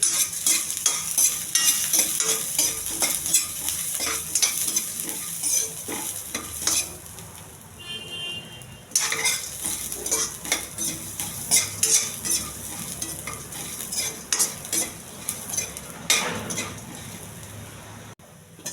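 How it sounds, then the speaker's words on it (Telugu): Chana dal, urad dal, cumin and dried red chillies sizzle and crackle while roasting in a hot pan as a utensil repeatedly stirs and scrapes, clinking against the metal, close and fairly loud. "కొద్దిగా శనగపప్పు, కొంచెం మినపప్పు, కొద్దిగా జీలకర్ర, ఎండుమిర్చి ఇవన్నీ దోరగా వేగించాలండి"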